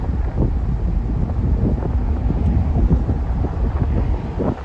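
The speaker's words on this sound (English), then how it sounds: "all of that wind is just protruding into the interior" Wind buffets a 2020 Ford Mustang Convertible Premium 2.3 driving with the top down, a loud, constant low roar and rumble of air filling the open cabin with no talk.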